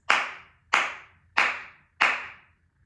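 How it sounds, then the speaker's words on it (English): Four flamenco palmas claras, sharp open hand claps, ring out evenly spaced, each a bright, crisp, close smack with a brief tail, alone with no talk. "The second sound we're going to discuss is called a clara or abierta"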